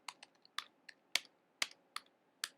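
Quick keystrokes on a computer keyboard while entering an HTML paragraph tag: seven or eight crisp, close clicks in an uneven rhythm over about two and a half seconds, with no voice.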